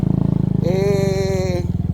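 A motorcycle engine rides a rough trail in Badian, Cebu, near Kawasan Falls, loud and close, with a pulsing idle that rises into a sustained revving whine before it settles back to a throb.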